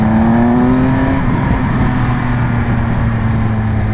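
A 2020 Triumph Speed Triple RS fitted with an Arrow exhaust holds a loud, buzzy high-rev drone at close range, pitch sliding slightly as the engine pulls, with no talk.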